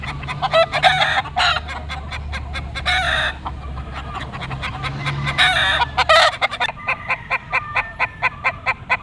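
Roosters crow and cluck at a busy open-air pet market selling fighting cocks, including Kelso bloodline birds, with repeated loud calls over steady crowd murmur and a run of short sharp clucks near the end.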